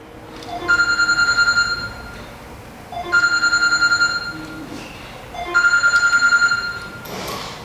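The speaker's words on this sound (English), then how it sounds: "that's my phone ringing" A phone rings in three bursts of trilling electronic bell tone, each about a second long with even gaps, loud and near during a blade replacement on an Andis T-Outliner trimmer.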